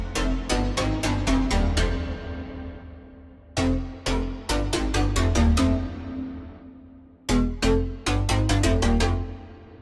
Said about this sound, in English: you get this really nice sounding reverb